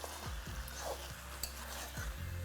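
Mutton is stir-fried in oil, with a soft sizzle beneath repeated scraping strokes of a spatula against the pan, several sweeps close by in an uneven rhythm.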